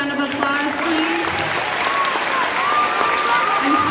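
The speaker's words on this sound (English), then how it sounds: "let's give all of our performers and our speakers one more special round of applause" Applause for student performers and speakers at an elementary school grand opening, a steady round of clapping from the gathered crowd that holds at an even level throughout.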